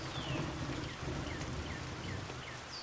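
Steady rain falls outdoors in the video game Pentiment, a soft continuous patter with faint bird-like chirps scattered over it and no voices.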